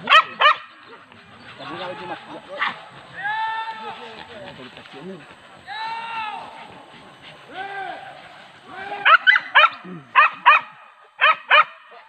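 Hunting dogs on a wild boar hunt on a golf course bark and yelp in scattered bursts, some drawn-out howling calls and sharp quick barks at varying distances, with people talking nearby.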